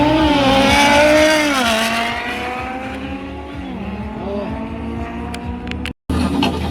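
A green Audi with a 2.5-litre five-cylinder engine launches hard in a drag race at Airport Poprad, its loud, rasping engine note climbing through gear changes before fading into the distance.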